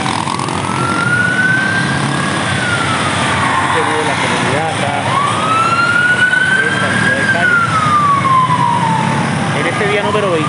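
Ambulance and police sirens wail as they pass along a city street in Cali, Colombia, during a national strike protest, the rising and falling tones sweeping steadily over constant loud traffic and crowd noise for the whole stretch.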